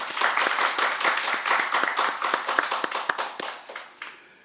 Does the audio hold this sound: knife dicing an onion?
no